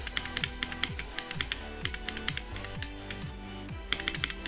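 Loud mechanical computer keyboard clattering in fast, uneven bursts of typing, close and dry, with sharp individual key clicks and no voices.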